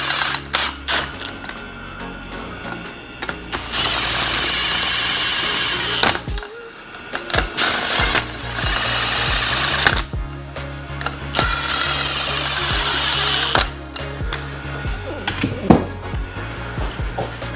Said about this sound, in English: we're just gonna start these with the impact gun